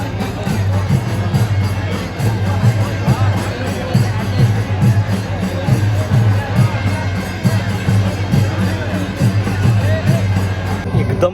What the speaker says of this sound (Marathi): आपल्या श्रीवर्धनच्या जत्रेपेक्षा ना ह्या जत्रेला इथे खूप गर्दी असते